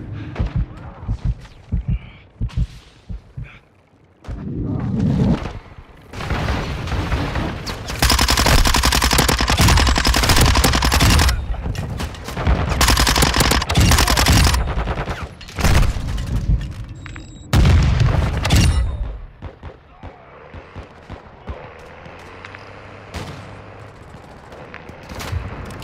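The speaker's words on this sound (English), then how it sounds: "I'm taking fire." Gunfire in Call of Duty MWII: loud, close bursts of machine-gun fire and booming shots in dense clusters, separated by brief lulls.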